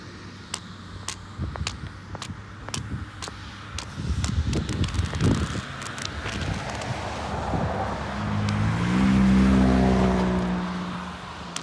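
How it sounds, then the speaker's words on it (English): Cars on a curbless street drive past one after another, each whooshing in and fading, with engine rumble swelling loudly near the end as a vehicle passes close. "now we have cars running parallel to me."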